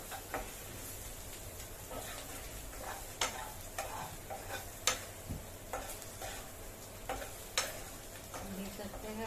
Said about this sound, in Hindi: ये सबको अच्छे से मैं भून लेती हूँ